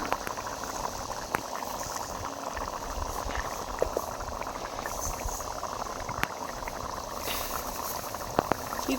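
Mixed vegetable curry boiling in a pot, a steady bubbling and simmering texture throughout with a few faint clicks, close and continuous.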